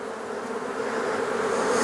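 Honeybees buzz around an open hive in a close, steady, dense drone that swells slightly over two seconds, with no voices.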